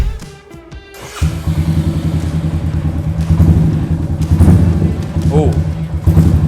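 A Royal Enfield Meteor 350 motorcycle engine idles with a steady low, lumpy thump after a brief quiet start, with occasional popping and faint voices in the background.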